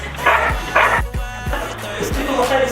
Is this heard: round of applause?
no